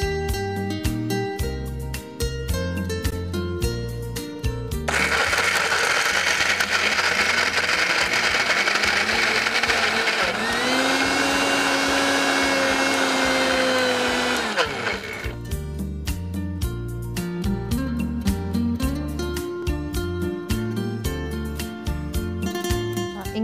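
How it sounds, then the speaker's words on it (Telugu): Mixer grinder blending cashew paste in a steady, loud whirr lasting about ten seconds, with a strained, higher motor pitch in the middle, framed by louder background music before and after. "ఇప్పుడు మనం ఇది మిక్సీ వేసుకుందాం."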